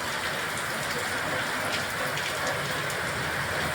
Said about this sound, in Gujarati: કેવો જોરદાર વરસાદ વરસી રહ્યો છે